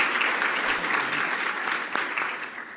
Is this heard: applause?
yes